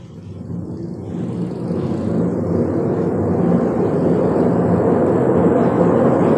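An electric bike's motor spins up on a dyno under a thumb throttle at full power level 5, a low rumbling whir that swells steadily and holds loud and continuous to the Class 2 20 mph limit.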